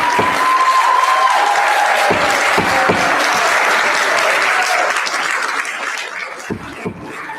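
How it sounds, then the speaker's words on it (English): A city council meeting audience breaks into sustained applause that fills the room loudly, then thins and tapers off toward the end, with a faint voice underneath. "There's no clapping, please."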